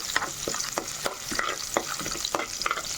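A spoonful of peanuts frying in oil for vaamaaku rice, a close bubbling sizzle scattered with frequent small crackles and pops, moderately loud and continuous.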